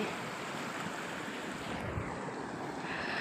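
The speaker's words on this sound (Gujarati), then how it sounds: "ધોરિયામાં હિન પાણી આવવા માંડ્યું છે." Steady rushing water flows continuously through an irrigation channel in a groundnut field, a broad noisy wash close by with no voices.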